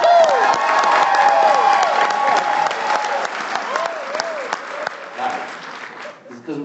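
A large seminar audience bursts into loud, sustained clapping mixed with cheering and whoops, dense and continuous for several seconds before tapering off near the end.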